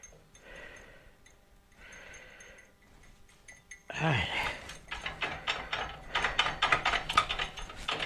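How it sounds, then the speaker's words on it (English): A 3/4 ratchet socket being turned in a shed, giving a rapid run of close, loud clicks that start partway through after a quieter stretch with some faint breathing. "You need to take a 3/4 ratchet socket."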